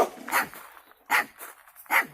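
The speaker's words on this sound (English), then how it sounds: "We do have some barking." Dogs at a rescue kennel bark in three distinct bursts, each a short run of sharp, close barks separated by brief pauses, loud against an otherwise quiet outdoor background.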